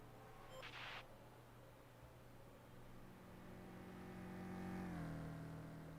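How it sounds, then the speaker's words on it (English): The safety car in the F1 Manager 24 racing game, at the Miami race, drones with a steady engine tone that climbs into a rising rev near the end, with a brief clicking burst early on. "That safety car sounds pretty nice, actually."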